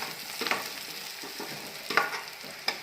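Onion, green chili and crushed garlic fry in a pan with a soft, continuous sizzle, broken by a few sharp scraping stirs of a spatula, close and moderately loud with no voices.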